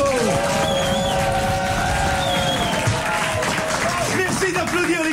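A French radio-show studio audience applauds, dense clapping that runs throughout with voices talking and laughing over it.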